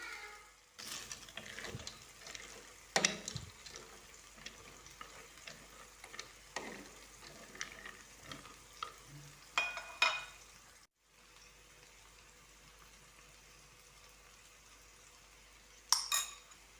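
Onions fry in a pan on a Kenyan home stove, a soft continuous sizzle broken by the scrape and clink of a utensil stirring, fairly quiet and close, with no talking.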